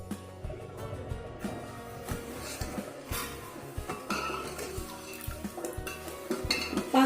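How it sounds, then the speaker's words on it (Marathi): A spoon stirs sugar syrup in a pot on a medium gas flame while making gulab jamun, giving soft, irregular scrapes and light metallic clinks close by. "पाक बनवताना असं चमच्याने हलवायचं अधूनमधून, म्हणजे आपली साखर पातेल्याच्या बुडाला चिकटणार नाही"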